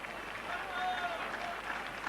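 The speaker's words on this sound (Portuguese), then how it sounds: "o pouco público presente nas Antas pela primeira vez bate palmas esta noite" A sparse crowd applauds at Porto's Antas stadium during a 1992/93 league match against Famalicão, with thin, scattered clapping that holds fairly steady and sounds distant and faint.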